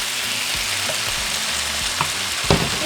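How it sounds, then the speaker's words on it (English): Green chile sauce hits sizzling ground beef in a hot pan, a loud steady frying hiss with crackles and a few sharper splatters near the end. "now I'm just going to add my Chile sauce"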